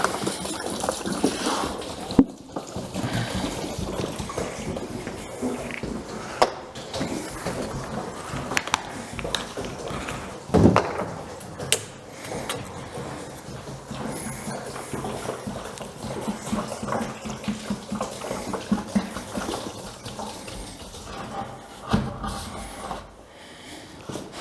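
Tire ballast fluid glugs and gushes steadily as it is poured into a Kubota BX tractor rear tire, a continuous close liquid flow with occasional sloshing surges and knocks.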